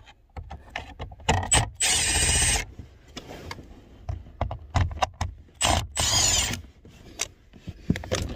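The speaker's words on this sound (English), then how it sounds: "let's take out this bolt here" A bolt is worked loose from the blower motor of a 2008-era Chevy Cruze with a ratchet. Quick clicking bursts alternate with longer whirring runs and scrapes, close and fairly loud in a quiet space.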